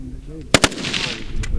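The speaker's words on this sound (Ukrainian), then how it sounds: "По ростовій мішені стріляємо з відстані 200 метрів, по грудній мішені на відстані 100 метрів." Rifle fire on a military shooting range at a base where officers train on targets at 100 and 200 meters: two sharp, close, loud shots in quick succession, then a fainter one, with echoing rumble and distant voices between.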